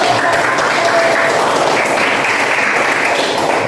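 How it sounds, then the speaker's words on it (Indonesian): Classroom applause for a student group about to present, a steady dense wash of clapping from many hands throughout, moderately loud and close, with faint voices mixed in. "Kita berikan tepuk tangan dulu, semangat dulu."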